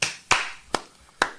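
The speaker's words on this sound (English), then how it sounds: "clap your hands." Four sharp hand claps ring out at a loose, uneven pace, loud and close with short decays between them.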